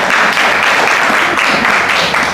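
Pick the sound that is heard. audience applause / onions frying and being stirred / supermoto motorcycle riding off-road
audience applause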